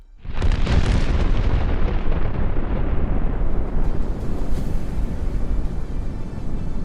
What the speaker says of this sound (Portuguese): A fala do Superman é abruptamente interrompida por uma explosão verde muito intensa que envolve tudo e apaga seus sentidos